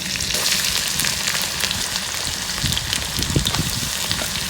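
Chopped green chillies and onion added to roasted cumin in hot oil, giving a loud, steady sizzle and crackle of frying that carries on without a break and without any voices.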